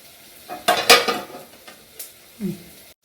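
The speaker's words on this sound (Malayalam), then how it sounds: "ഇനി നമുക്ക് ഈ മസാലപ്പൊടികളെല്ലാം ഒന്നിട്ട് കൊടുക്കാം." Masala spice powders are added to cut chicken before frying, with clattering spoon strikes against a metal bowl, a cluster of sharp knocks followed by a few lighter scrapes, all close and without talk.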